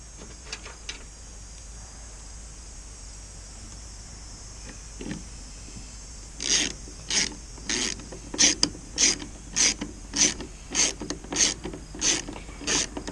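A socket ratchet wrench clicks while working on a Husqvarna 455 Rancher chainsaw, with a few faint taps first and then a close series of crisp, regularly spaced ratcheting bursts.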